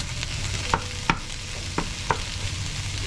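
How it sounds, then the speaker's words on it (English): Ground beef browns in a pan over medium heat with a steady, soft sizzle, broken by a few sharp scraping taps of a utensil as the meat is stirred and broken up. "I'm going to break it up a good bit, and then I'm going to just lightly brown it. I've got the heat up at medium now."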